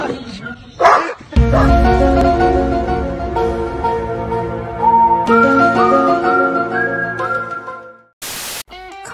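An animal acting as a house guard gives loud, dog-like barking, a run of sustained, throaty calls after a few sharp yips, close and strong before a brief cut at the end.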